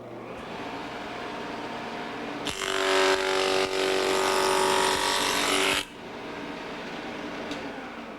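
A Shopsmith power tool cuts picture frame molding with a loud, close, whining buzz lasting about three seconds, preceded and followed by a quieter motor hum.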